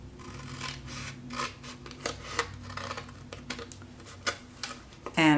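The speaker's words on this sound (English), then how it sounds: "We're going to cut this section out." Scissors cut a section out of creased paper card in a craft setting, making a run of short rasping snips and rubbing scrapes close by.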